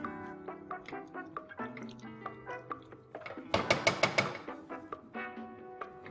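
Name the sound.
pouring cold milk into a pot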